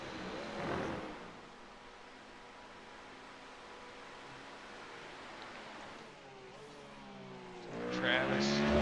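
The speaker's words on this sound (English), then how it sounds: "So we've got some cars already on track." GT3 race cars circling a track during qualifying in a racing video game, engine drones steady and mid-distance with harmonic whine, swelling louder near the start and end as cars pass, voices talking over them.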